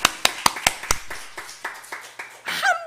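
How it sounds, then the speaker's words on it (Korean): A church congregation gives a burst of rhythmic hand claps during a Sunday sermon, about five crisp claps that quickly thin into scattered, softer ones, with a voice rising briefly at the end. "박수!"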